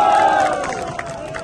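A large political rally crowd in Punjab, Pakistan claps and cheers for MNA Jamal Asal Khan, a loud dense roar with shouting voices that eases slightly toward the end.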